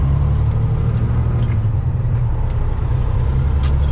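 A truck engine runs steadily and loud from inside the cab as the driver shifts gears, with a constant low rumble and a few faint clicks and hisses over it.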